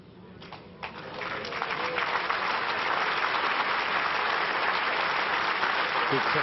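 A large crowd at the 2010 World Indoor Bowls final breaks into applause, starting with scattered claps and swelling into steady, sustained clapping that fills the hall.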